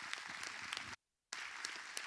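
Audience applause at a business conference session, sustained clapping broken by a brief silent gap, then resuming; fairly faint overall.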